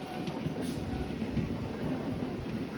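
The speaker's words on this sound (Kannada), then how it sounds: "ನಮಗೀಗ ನಾಯಂಡಹಳ್ಳಿಯಲ್ಲಿ ಕ್ರಾಸ್ ಮಾಡ್ತಾ ಇರೋ ಟ್ರೈನು ವಿಶ್ವಮಾನವ ಸೂಪರ್ ಫಾಸ್ಟ್ ಎಕ್ಸ್ಪ್ರೆಸ್ ನೋಡಿ" The Vishwamanava Superfast Express, running from Mysuru Junction to Belagavi, crosses on platform 2 at Nayandahalli station past a passenger train on platform 1, making a steady close rumble of wheels and carriages that holds evenly throughout.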